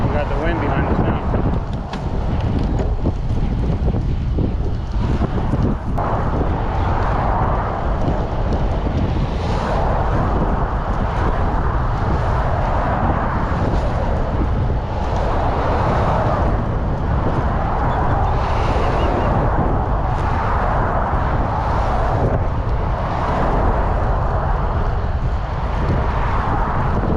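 Steady roaring wind buffets the microphone during a bike ride along the Gandy Blvd bike path, a constant loud rush with broadband turbulence throughout and occasional gusty swells.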